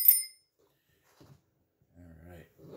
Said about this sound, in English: And let's ring the bell for Kobe.